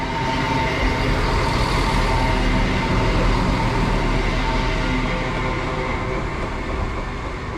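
A Class 170 diesel train rumbles steadily and loudly nearby, its engine drone constant as it pulls in alongside a platform in Derbyshire.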